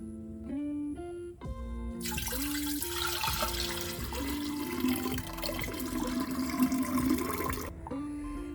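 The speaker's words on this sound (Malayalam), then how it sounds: "നമുക്ക് ഇതിലേക്ക് തേങ്ങ വെള്ളം ഒഴിക്കാം" Coconut water poured into a glass jar makes a continuous splashing gush for several seconds, set against soft background music that starts before the pour and continues after it.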